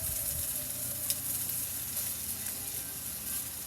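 Onions sizzle and fry in a used camp mess kit pan during a Spam cook, a steady bright crackle throughout with a brief clink of a utensil, no voices.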